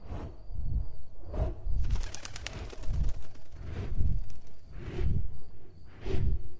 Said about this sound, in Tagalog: Para ba isa itong pakpak ng isang malaking ibon na lumilipad at naglilibot sa bahay namin.